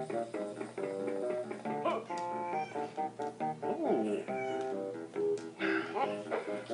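A cat meows repeatedly up close, a string of insistent, varied cries, with a person's voice mixed in among them.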